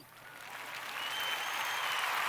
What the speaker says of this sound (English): That's a low applause